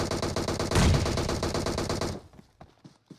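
Rapid automatic gunfire from PUBG Mobile rattles loud and close in a dense continuous burst for about two seconds, then breaks into a few scattered single shots.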